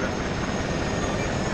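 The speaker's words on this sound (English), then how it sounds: "Chopper." A helicopter in the video game Arma 3 gives a steady, dense rotor and engine roar, loud and unbroken for a brief moment.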